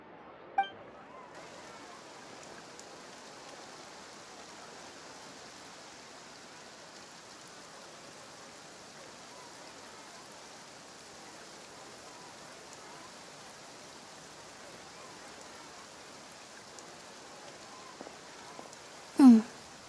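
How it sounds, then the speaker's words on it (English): Steady rain hisses evenly across the whole stretch in the Fontaine region of the video game Genshin Impact, with a single faint clink near the start and a sharper tap near the end. "Looks like rain."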